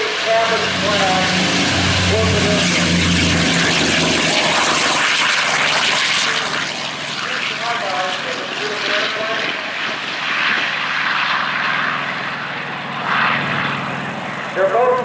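A Lockheed Ventura airplane with Pratt & Whitney piston engines drones loudly and steadily as it passes, a broad roaring engine sound that slowly recedes, with people talking throughout.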